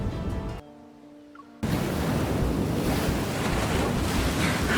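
Ocean waves and wind in the game Under Deepspace: a brief tonal stretch gives way to a sudden, steady roar of surf and gusting wind, loud and continuous with no voices.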